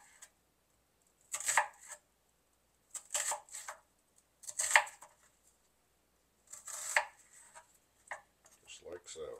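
A knife cuts through a vegetable into slices for rings on a board, giving five or six separate crisp chops spaced roughly a second apart, close and fairly quiet.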